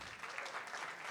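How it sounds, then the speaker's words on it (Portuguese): Brief, faint applause from a sales conference audience, a short patter of scattered clapping with a hint of voices. "Uma salva de palmas para mim."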